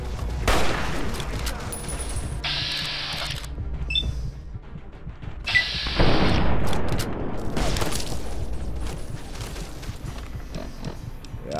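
Scattered gunshots and booms in Fallout: New Vegas, mixed with game noise and clatter at a fairly steady level, with a louder blast near the middle.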